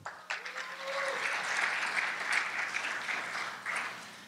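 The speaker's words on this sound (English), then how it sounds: "round of applause for Raul" Audience applause at a conference lightning talk session, a steady round of clapping from a room full of people that rises and holds for several seconds with a brief voice underneath.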